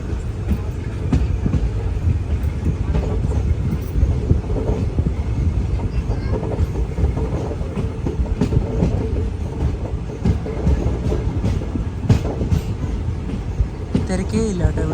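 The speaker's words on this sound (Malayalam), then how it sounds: "പാണ്ഡവപുര എന്ന് പറഞ്ഞിട്ടുള്ള ഒരു റെയിൽവേ സ്റ്റേഷനിലേക്ക് എത്തിയിരിക്കുകയാണ് ട്രെയിൻ" Kaveri Express sleeper train, the Mysuru to Chennai service, at Pandavapura station, its first stop after Mysore, rumbles steadily with close clattering wheels and carriage noise throughout, loud and continuous, with faint voices under it.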